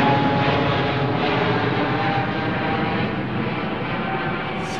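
An airliner departing runway 09R at London Heathrow Airport makes a loud, sustained jet roar that eases slightly toward the end, with no voices over it.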